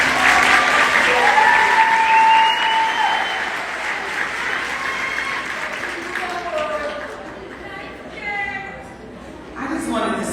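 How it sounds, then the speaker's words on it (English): A graduation audience gives the class of 2022 a sustained round of applause that gradually thins toward the end, with voices talking and calling out over the clapping. "Give them another round of applause."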